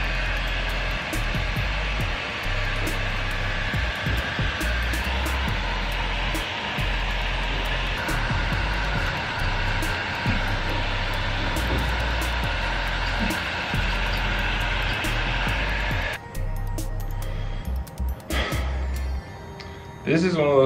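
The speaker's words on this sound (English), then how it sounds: "So we're busting out the heat gun for that one." A heat gun blows hot air onto a sticker on a Craftsman truck tool box, a steady loud whooshing hum that runs for a long stretch, pauses briefly, then resumes, with someone talking over it.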